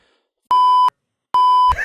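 Two loud, steady censor bleeps, each roughly half a second long, cut cleanly into a conversation between teenagers; the pauses around them are silent and the second bleep ends in a brief burst of muffled noise.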